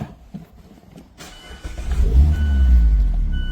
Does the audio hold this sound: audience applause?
no